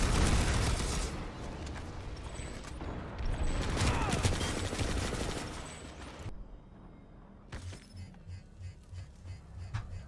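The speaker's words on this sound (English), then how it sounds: "What is it that was shooting at me?" Video-game gunfire in Planetside 2 aimed at the player, dense bursts of rapid shots and blasts that cut off abruptly, then quieter rhythmic thumps.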